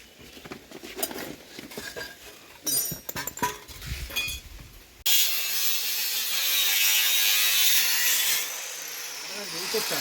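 Ratchet wrench turned by hand during workshop machine work, close rapid clicking in short bursts, then a loud continuous grinding or cutting noise takes over and runs steadily to the end.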